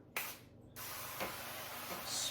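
A can sprays a light coating of duck fat over a tray before ground bison and beef jerky goes on it, heard as a few short, close hissing bursts with quiet pauses between.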